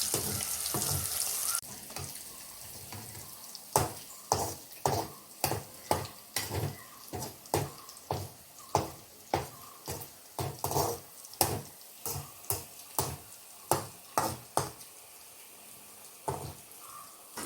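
Fish frying in oil for a Kerala-style fish pickle: a steady sizzle runs beneath repeated rhythmic clacks and scrapes of stirring in the pan, all close by.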